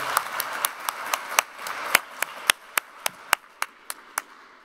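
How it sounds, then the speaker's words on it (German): A few people clap at an environment and building award ceremony, the sharp hand claps spaced fairly evenly, slowing and thinning toward the end, over a faint room murmur. "Starker Applaus für"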